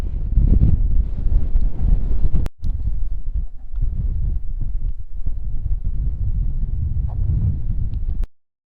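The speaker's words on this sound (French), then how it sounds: "il y avait 100 km/h de vent là" Strong wind of around 100 km/h buffets the microphone in heavy, low rumbling gusts that roll continuously and loud, with a brief dropout partway through.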